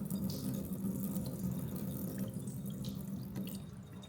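Cooking water pours off boiled beans being drained into a sink, a steady continuous splashing and trickling rush close by, running alone for a few seconds with no talk.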